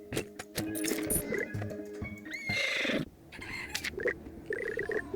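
Horse sounds from the video game LonaRPG: a whinny and clip-clopping hooves come through among busy game effects and chimes, fairly loud and close, with no talk.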